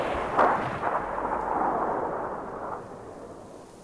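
A single heavy gunshot from a weapon in the Metro video game booms out close and loud, then rolls into a long, dark reverberant tail that slowly fades.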